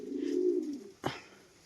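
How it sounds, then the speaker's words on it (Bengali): A caged female pigeon with tied wing feathers gives a low, sustained coo close by, then a single sharp flutter and knock as it struggles against the cage, followed by quiet. "খাঁচার মধ্যে রেখেছি যার কারণে বেরোনোর চেষ্টা করছে পায়রাটা।"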